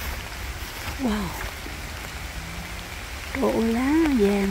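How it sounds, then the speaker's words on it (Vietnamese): Rain falling in a forest during a mushroom-picking outing, a steady soft hiss throughout, with a person's voice speaking over it at times. "nghe tiếng mưa không?"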